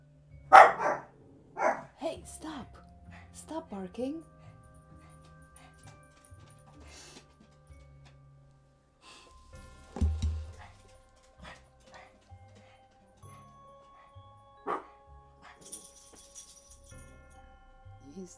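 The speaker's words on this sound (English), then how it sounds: "Hey, stop barking." A couple of dogs bark and yip in sharp bursts, with a few whimpers in between, while a person speaks over them to hush them.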